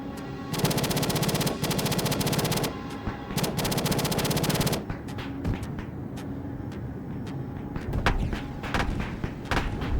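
Aircraft cannons in the combat game Arma 3 rip out two long, loud sustained bursts of rapid fire, followed by scattered thumps and distant explosions.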